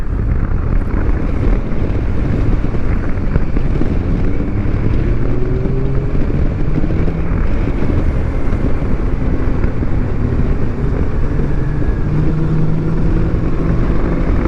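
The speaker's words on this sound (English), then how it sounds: "I kind of lugged it a little bit there in third gear" A Kawasaki Versys 650 motorcycle engine lugs in third gear, a low droning rumble that rises and falls slowly under constant heavy wind buffeting on the microphone.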